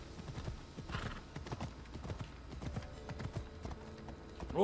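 A ridden horse trots in a video game, with steady rhythmic clip-clop hoofbeats running throughout, fairly close and clear, and a short whinny near the end.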